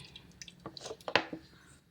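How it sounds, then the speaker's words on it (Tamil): Coconut oil poured into a kadai on the stove, heard as a few soft, close drips and splashes over a quiet background. "தேங்காய் எண்ணெய் ஊற்றிருக்கேங்க"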